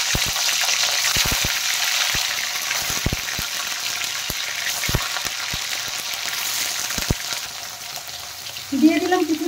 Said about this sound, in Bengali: তেল গরম হয়ে গেছে, এখন আমি পনিরগুলো ভেজে নেব।